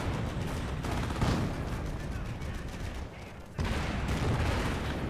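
Artillery shelling and gunfire crackle through a Company of Heroes battle with an M8 and tanks, a dense continuous barrage of distant booms and shots filling the scene, briefly dipping before resuming.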